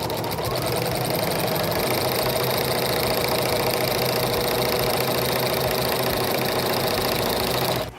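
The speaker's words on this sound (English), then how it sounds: "I'm gonna go ahead and sew from the other direction so I can get some nice straight lines" A sewing machine with a walking foot quilts straight lines, running continuously and loud at an even fast speed, stopping abruptly at the end.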